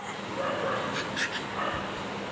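A small child imitates a dog's bark and whimper with a few short yippy vocal bursts, close to the microphone, over a steady background hum.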